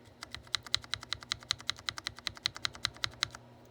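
Lubed brown mechanical keyboard switches are pressed one after another in a quick, even rhythm, each keystroke a crisp, soft clack heard close up in a quiet room.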